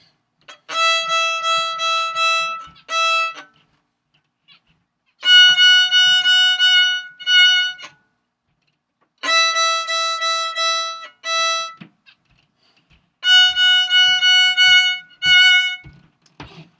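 A bowed string instrument plays quick repeated melodic phrases in four bursts separated by short pauses, clear and close with no voices.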